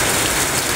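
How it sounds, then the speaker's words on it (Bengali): Heavy rain pelts down near Howrah Bridge in Kolkata under a dark, thundery sky, a loud, dense hiss of drops with no talking. "এত জোরে বৃষ্টির তেজ আর এত আকাশে গর্জন"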